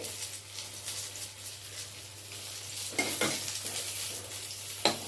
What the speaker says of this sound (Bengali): বেগুন ভাজা মোটামুটি দেখো হয়ে এলো